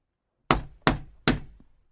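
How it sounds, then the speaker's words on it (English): Three sharp knocks on a shop door fall in quick succession, each a hard, hollow thud that dies away fast, close and loud against silence. "Finally, he knocked on the shop door."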